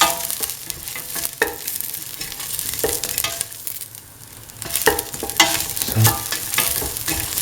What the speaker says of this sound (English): Put in the red chillies.